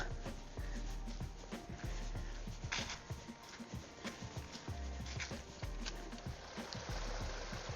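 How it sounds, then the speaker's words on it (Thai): A natural mountain stream runs steadily down from the hills, a constant broad rush of flowing water with soft gurgles and splashes, close and even throughout. "เสียงน้ำไหลอยู่นี่น้ำไหล ออกมาจาก เทิง เขาเด้อค่ะ พี่น้องน้ำธรรมชาติค่ะ"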